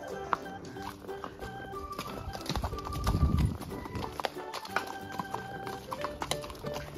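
Horse hooves clip-clop in an uneven rhythm, close by at an amusement park, with a brief rustling burst midway and scattered background sounds.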